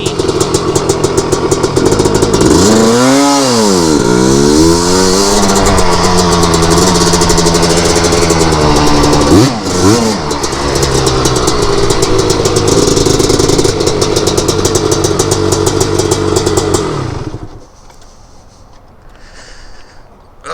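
The engine of a 250R runs after gearing and jetting changes, loud and close, revving up and down early on, then idling steadily before abruptly cutting off near the end.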